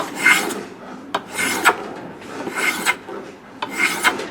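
Sandpaper rasps along a wooden guitar fingerboard in scooping strokes, giving four rhythmic, close-up scratchy passes of steady loudness with brief pauses between them.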